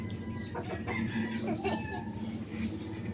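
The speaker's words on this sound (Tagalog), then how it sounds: "Yun na yung manok, kakagatin na yan." A chicken clucking repeatedly nearby, short throaty calls in an uneven rhythm over faint background noise.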